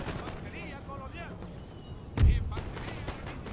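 A burst of musket and cannon fire in an Empire: Total War battle defending Florida, with a sharp boom near the middle over constant gunfire and background noise, while people talk throughout.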